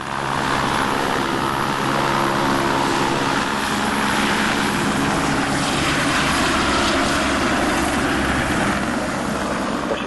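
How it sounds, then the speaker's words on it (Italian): Firefighting helicopters over a forest fire, giving a continuous loud, broad engine and rotor roar that holds steady throughout with no talk. "Da questa mattina presto gli elicotteri della regione stanno intervenendo"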